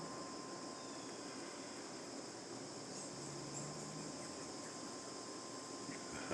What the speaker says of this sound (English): as well as the cicadas